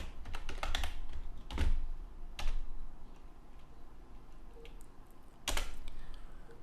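Rapid clicking keystrokes on a computer keyboard come in uneven bursts, close and fairly quiet, with a few sharper, louder key presses standing out. Faint background noise runs underneath.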